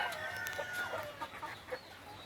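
Large Brahma chickens and fighting cocks on an organic farm, faint clucks and a distant drawn-out call over a steady background hiss.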